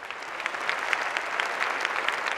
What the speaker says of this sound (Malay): satu tepukan untuk laki pun